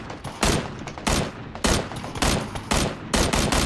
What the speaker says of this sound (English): I shot him four times and he didn't go down.